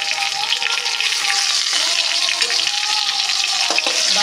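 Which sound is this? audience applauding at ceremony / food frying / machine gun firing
food frying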